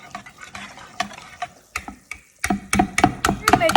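Whisking banana pudding mixture with milk in a bowl, rapid irregular clicking taps of the whisk against the side, growing louder and quicker toward the end, no speech.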